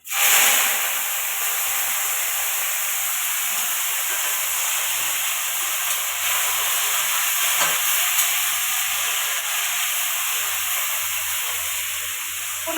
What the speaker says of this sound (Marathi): लसूण लाल झाला आता मेथीची भाजी टाकून घेते